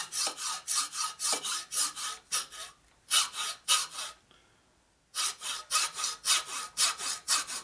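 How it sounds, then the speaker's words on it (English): A hand hacksaw cuts through metal on a chopper bike rebuild, with steady rhythmic back-and-forth strokes in two bursts separated by a brief pause, close and clear. "Hacksaw."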